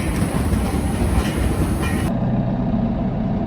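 Loud, steady mechanical rumble and rattle of a potato grading conveyor machine on a farm running continuously, with a high whine that cuts off partway through.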